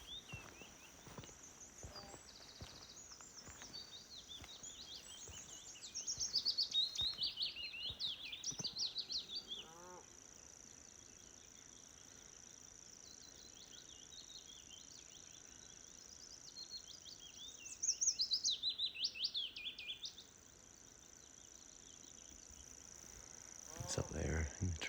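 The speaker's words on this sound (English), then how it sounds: "Just a little tiny wee brown bird." A tiny brown bird sings from a silver birch in a damp, moist wood, its high thin warbling phrases coming in bursts over quiet rustling, with soft talk and steps nearby.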